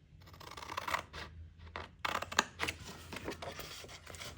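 Scissors snip through pattern paper for a Valentine's chocolate gift bag, a few crisp close cuts and scrapes with short pauses between them.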